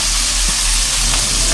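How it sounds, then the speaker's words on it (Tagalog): Food frying in a pan, a loud continuous sizzle and hiss close up, steady throughout with no talking. "Prito lang muna natin yan."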